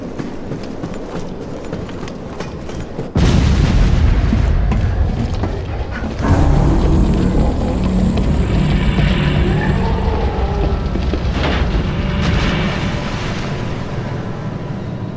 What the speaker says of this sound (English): The train derailed.